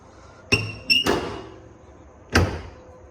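A carbon fiber hood on a 2015+ Subaru WRX is lowered and shut after a radiator shroud install, landing with a sharp clunk, a quick double knock, then another firm thump close by.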